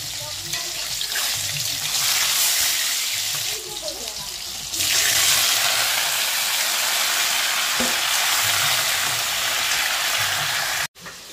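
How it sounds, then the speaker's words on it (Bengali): Cumin seeds, a bay leaf and tomato go into hot oil for a fish curry, with a loud, steady hiss of sizzling that surges sharply partway through and then keeps crackling. "চলো তেল গরম হয়ে গেছে, একটু জিরে ফোড়ন, তেজপাত, টমেটো এগুলো দিয়ে আর কি মাছের ঝোলটা করবো"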